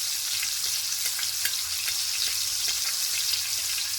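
Masala-coated pomfret fish frying in oil, a fairly quiet, even, continuous sizzle with light crackling pops, close and without talk.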